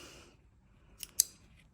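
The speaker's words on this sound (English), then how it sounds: "you can snip that end off" Two quick scissor snips cutting off a yarn tail while sewing up a small knitted toy, crisp and close, the second cut sharper than the first, in a quiet room.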